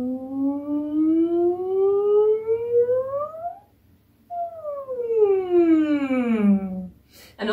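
A single voice mimics a siren in two sweeps: first a long rise from low to high, then a brief pause, then a falling glide downward. It is close and clear, with a short noisy burst closing it.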